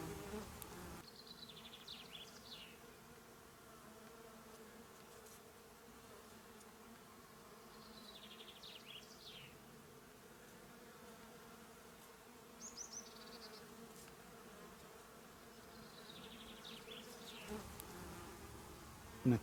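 A low, constant hum of many honeybees buzzing around nucleus hives, faint and spread out, with occasional closer buzzes passing by.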